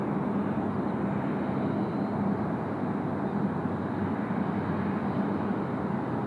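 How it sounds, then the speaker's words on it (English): A Velocity airliner on flight 1528 to Hobart taxis past at Sydney Airport, giving a steady, broad engine rumble and roar that holds evenly for several seconds at moderate distance with no voices. "Velocity 1528, just about to roll past, heading off to Hobart this morning."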